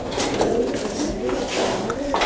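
Soft, low coos from teritis batik pigeons repeat over a steady background bustle of chatter and clinking, fairly close and continuous.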